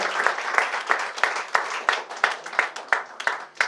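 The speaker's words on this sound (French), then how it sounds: "Vous pouvez les applaudir pour ce premier tirage." A small audience claps after the first draw of a European schools badminton championship, with a few rhythmic, evenly spaced hand claps sounding moderately close.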